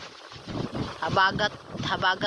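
Gusty, cold autumn wind roars and buffets the microphone while people talk close by.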